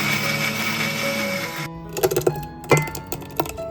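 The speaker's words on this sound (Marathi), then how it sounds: "काही रेडी केलेलं आहे तर मिक्सर मध्ये सर्व बारीक करतोय." A kitchen mixer grinder blending tomatoes into paste runs with a steady whirring drone, then cuts off and leaves a scatter of clicks, knocks and rattles as the jar is handled.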